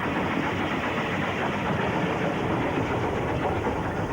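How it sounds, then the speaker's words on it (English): A steam locomotive engine rumbles loud and close with steady chugging and clatter, no voices present. "I'm listening to the beat of the engine."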